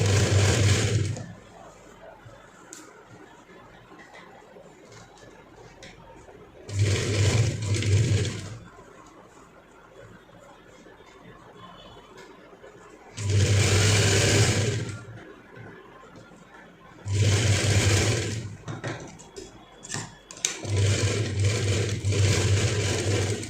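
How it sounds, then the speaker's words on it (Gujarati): A sewing machine stitches the side seam of a cotton baby frock for a three-year-old, running in four distinct loud bursts of steady motor whir separated by quiet pauses. "હવે આ બાજુ આપણે સિલાઈ કરી લેશું"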